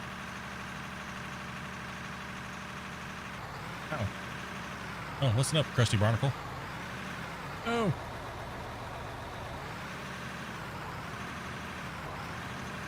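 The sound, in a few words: bulldozer engine in Out of Ore video game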